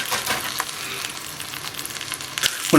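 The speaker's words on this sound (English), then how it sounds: "So I'm going to fry these off until they're nice and crisp and golden." Sausages fry in a pan over a Trangia camping stove, giving a close, continuous crackling sizzle with a few sharper pops and a brief clatter near the end.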